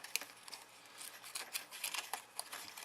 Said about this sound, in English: Now what I'm going to do is actually cut 2 leaves, just like that.